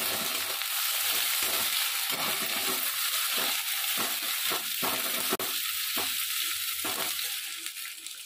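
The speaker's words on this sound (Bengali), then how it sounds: "আমাদের আদা দেওয়া হয়ে গেছে। তবে এটাকে আমরা একটু হালকা করে নেড়ে নেব।" Ginger frying in a pan while being stirred lightly, a constant bright sizzle with rhythmic scraping strokes of a spatula and one sharp knock, close and fairly loud.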